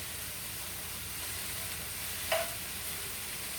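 Spiraled vegetables and spices sizzle faintly in a pan, a steady soft hiss while they are stirred and pushed aside, with one brief utensil clink partway through.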